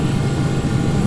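A Hawker 850XP business jet in the Prepar3D flight simulator landing with thrust reversers deployed, a loud, steady engine roar filling the whole short stretch.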